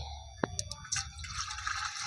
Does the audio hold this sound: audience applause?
no